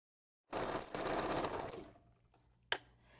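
A sewing machine stitches wig bundles for a middle V-part wig in two quick bursts of rapid motor whir, followed by quieter settling and a short sharp click near the end.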